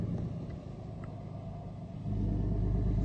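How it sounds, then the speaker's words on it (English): A tan truck's engine rumbles low at idle, then swells into a louder, deeper rev partway through and holds there. "He's revving his engine."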